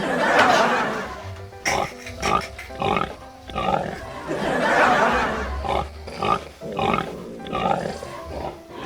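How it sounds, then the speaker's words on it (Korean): Pig grunts and snorts come in repeated bursts, fairly close and loud, with a few breathy squeals mixed in. "듣는 돼지 ASMR"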